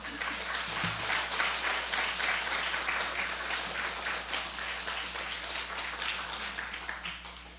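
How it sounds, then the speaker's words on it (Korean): Steady, dense applause from a large church congregation at a Thanksgiving service fills the room, sustained without pause, with a few louder individual claps near the end. "큰 박수로 환영해 주시기 바랍니다"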